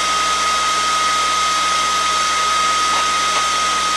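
A hair dryer blows continuously at close range in a puppet-making workshop, a loud steady whirring rush with a fixed motor whine and no speech.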